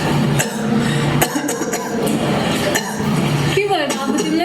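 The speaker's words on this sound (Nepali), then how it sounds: "फेरि ऊ बेसरी खोक्न थाल्छ" A schoolboy coughs repeatedly in a classroom, a series of harsh, close bursts spread across a few seconds, with a clink and a faint chuckle among them, in a staged drama about smoking.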